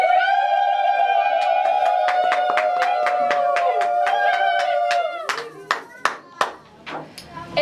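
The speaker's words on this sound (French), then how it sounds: "Applaudissez s'il vous plaît," Audience applause at an office-opening ceremony: scattered sharp claps ring out over a sustained held tone, then grow into louder, irregular clapping once the tone stops.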